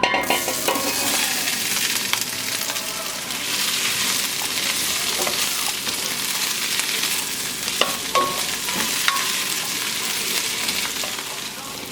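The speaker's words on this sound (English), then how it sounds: "this pan is pretty hot, so I'm going to go ahead and add in the sausage" Sausage frying in a hot pan for seafood gumbo, a steady loud sizzle throughout with occasional stirring scrapes and small pops, close up, with no talking.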